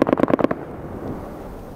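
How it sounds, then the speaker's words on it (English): JDAM bombs from an airstrike in Afghanistan, a rapid burst of about five sharp distant blasts within half a second, followed by a low rumbling fade. "That was our bombs."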